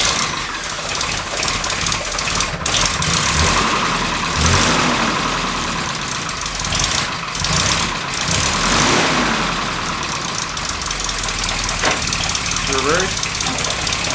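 A Nissan D21 Hardbody pickup truck's engine runs nearby at a steady mid-pitched idle with a few swells in revs, while people talk over it.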